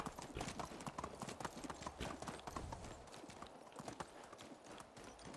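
Horse hooves clip-clopping steadily in the farming game Medieval Dynasty, a dense, close, continuous rhythm of hoof strikes with no voices.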